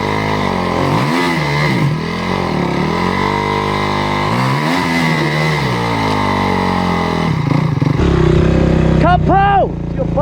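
A dirt bike engine revs up and down in rising and falling sweeps on a rocky hill trail, loud and close, with voices shouting over it.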